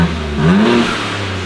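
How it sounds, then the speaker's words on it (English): A BMW M3/M4 with the S58 engine and a single midpipe exhaust revs hard once, the note rising and falling close by, with a screaming exhaust and audible intake sound, no talking. "we're revving it and you hear it screaming in the back, but you can still hear the intakes"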